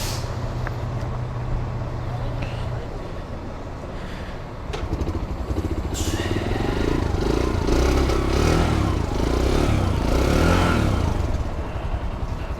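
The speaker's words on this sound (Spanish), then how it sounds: "Ahí va, la moto arrancó" A Yamaha YBR motorcycle engine cranks and catches, then idles and revs with a rough, rising mechanical drone that grows louder midway, heard close by outdoors with traffic-like rumble around it.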